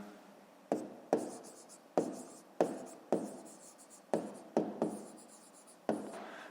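Pen or pencil writing by hand on paper while a 5th-grade maths exercise is worked out: a quiet run of short scratchy strokes in irregular bursts, each starting sharply and trailing off, close by with no talk.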